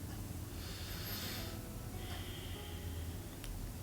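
Steady, airy breaths with a short snort-like exhale from someone lying face down in a yoga pose for sciatica, legs apart and head on folded arms, heard close over a constant background hiss.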